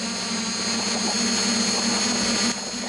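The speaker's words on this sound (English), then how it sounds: "Scientists at the Jülich Research Center use the little remote sensing drone to assist their research on plants." Small remote sensing drone flying over an energy crop test field, a steady high whine with a constant low hum, fairly loud and unbroken throughout.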